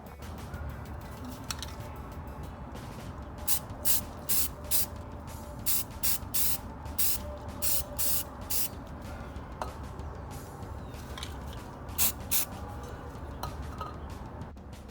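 Short bursts of black spray paint hiss from a can onto Willys Jeep CJ3B seat parts, a dozen or so quick, loud puffs in an uneven rhythm over a faint background hum, with small clinks between sprays.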